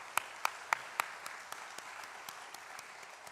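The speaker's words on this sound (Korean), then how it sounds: "박수 보내도록 하겠습니다" A few church worshippers clapping during a Sunday service, sparse distinct claps that start sharp and close, then soften and thin out into a light patter.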